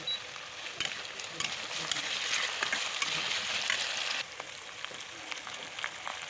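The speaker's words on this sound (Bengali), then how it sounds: "সব কিছু এখন ভালো মতো একটু কষিয়ে নেব, যতক্ষণ না মশলা থেকে তেল ছেড়ে আসছে ততক্ষণ একটু নাড়িয়ে নেব" Duck meat and spices frying in a pan while being stirred, a steady soft sizzle with occasional scraping clicks throughout, fairly faint and with no voices.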